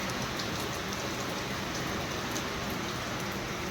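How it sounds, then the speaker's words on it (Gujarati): Steady first monsoon rain pours down on a rural farmstead, a dense continuous hiss of drops on surfaces, even and unbroken throughout with no voices. "આજ વરસાદ આવ્યો છે"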